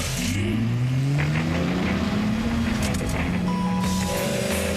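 A car engine revs and roars loudly, its pitch rising and falling through several sweeps for about five seconds, with no voices over it.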